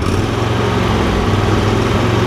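Up close, the engine of a John Deere L120 lawn tractor rumbles loudly and steadily at a fast, even running speed for a short stretch, with no talk.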